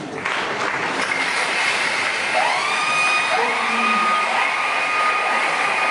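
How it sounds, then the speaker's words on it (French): Applause from an assembly of deputies, a dense continuous wash of clapping at moderate distance, with some whistling or cheering tones rising over it. "qu'elle soit applaudie"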